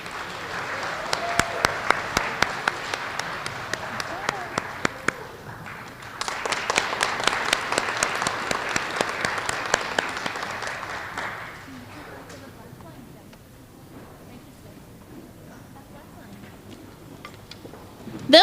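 A school audience applauds fourth grade students of the month at an elementary school assembly, bursts of clapping with sharp individual claps, pausing briefly before a second wave, then fading to quiet room noise.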